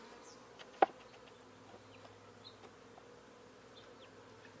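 Honey bees buzz faintly around a hive, a soft wavering hum with a single brief knock partway through and no voices.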